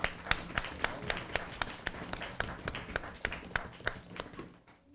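Audience applauding a maestro, a run of sharp individual claps in a loose rhythm, moderately close, tapering off at the end.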